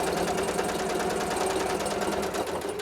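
Sewing machine stitching the shoulder seams of a quilted vest, a continuous close, steady mechanical whir with a fast rhythmic needle pulse throughout, no talking.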